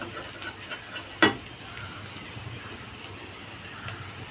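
Okra and onion are sautéed in a pan with a soft, steady sizzle and hiss, punctuated by one sharp utensil knock near the start and a few lighter stirring taps.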